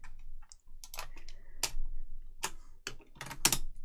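Fingers tapping on a computer keyboard, an irregular series of close, crisp key clicks, some in quick clusters and others spaced apart, over a faint low hum.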